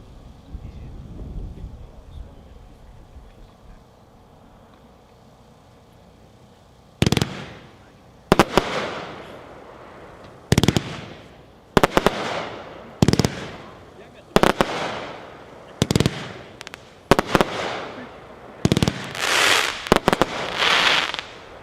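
Mad Ox Supernova fireworks cake, a 25-shot consumer repeater, fires a rapid series of loud booming bursts outdoors, each followed by crackling tails, after a quieter opening with faint background voices.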